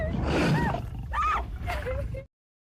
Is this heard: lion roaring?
yes